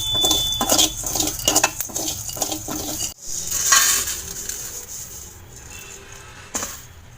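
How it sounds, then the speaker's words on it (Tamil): Poppy seeds and spices are roasted in a pan on a slow flame. A utensil scrapes and stirs in a rhythmic run of close clatters, then gives way to a softer steady sizzle with an occasional knock. "ஸோ ஸ்லோ ஃப்ளேமில் வந்து வச்சு நல்லா வறுத்துக்கோங்க."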